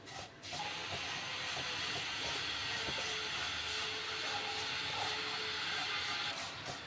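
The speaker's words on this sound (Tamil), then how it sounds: "இந்த அளவுக்கு கோல்டன் ப்ரௌன் வர வரைக்கும் நல்லா ஃப்ரை பண்ணிக்கோங்க" Semiya (vermicelli) frying in ghee in a pan, a steady broadband hiss and sizzle that holds throughout with faint scattered crackles and light clinks, no talking.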